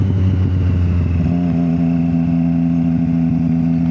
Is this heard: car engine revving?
yes